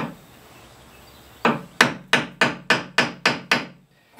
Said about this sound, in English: So I just take a chisel, hit that thing, and this one right here.